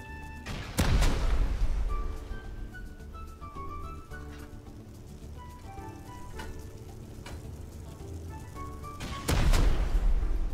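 Gunfire in the video game Rust as a player shoots at turrets, sharp bursts at the start and end framing a stretch of rattling shots and metallic tones under game noise.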